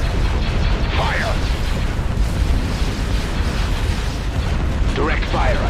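Ship weapons fire during a video game space battle, a dense continuous rumble of booms and mechanical bursts, with voices heard over the din.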